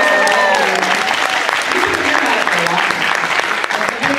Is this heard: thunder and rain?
no